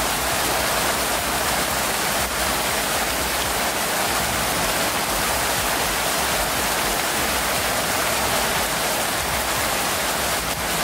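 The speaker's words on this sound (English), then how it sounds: "the rain gradually picks up, going from a light patter into a steady sprinkling" Video game rain building from a light patter to a steady sprinkle, a dense, even hiss of falling drops that holds constant and loud throughout with no voices.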